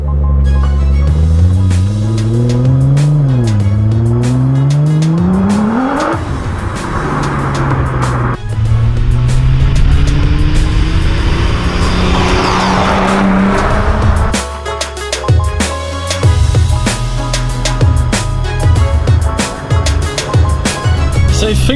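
A 600 BHP Nissan GT-R WRC rally car revs hard and loud, engine pitch sweeping up and down repeatedly, with tyre skids and gravel scrabbling as it slides, then a rough idle and further blips.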